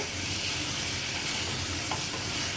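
Steamed taro cooks with spices in a pan as a steady, dense sizzle with no pauses over the short stretch, close and fairly loud, with no talk.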